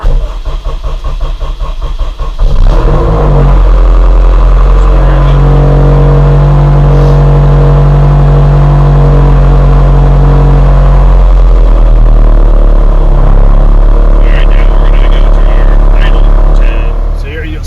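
Honda F24 engine cranking with rapid starter chatter, then catching and running loud and close with a steady low drone and a few slight rises in revs as it settles.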